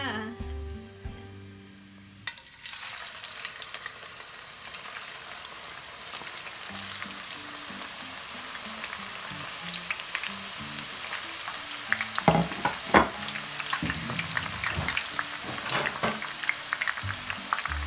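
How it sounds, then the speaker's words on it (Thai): Shallots fry in hot oil over medium-high heat, a dense steady sizzle with bubbling, joined later by scraping and clinks of a utensil stirring the pan, close and loud. "วิธีทอดหัวหอมแบบนี้เนาะ"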